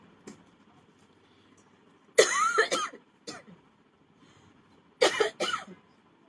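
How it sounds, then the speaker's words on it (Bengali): A person coughs in two separate bursts, each a cluster of harsh coughs, with a quieter cough in between, close and loud against a quiet background. "হঠাৎ করে কাশি আসতেছে"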